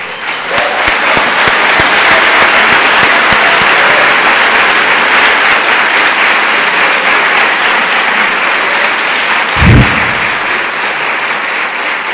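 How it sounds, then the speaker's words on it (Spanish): Loud, sustained applause from a conference audience in a lecture hall, steady dense clapping with a brief thump near the end. "les pido un gran aplauso"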